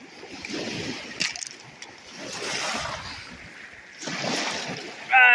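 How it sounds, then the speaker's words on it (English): Waves wash against the rocky shore at Whitefish Point in broad, surging swells that rise and fade, with wind noise and a brief sharper splash near the end, heard close and fairly loud. "so you can hear the waves and stuff like that"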